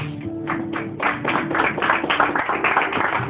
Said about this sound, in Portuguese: dando um forte aplauso para Jesus